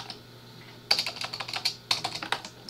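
Typing on a computer keyboard while setting up a Windows class development environment: two quick bursts of close, crisp keystrokes in an uneven rhythm, with no talking.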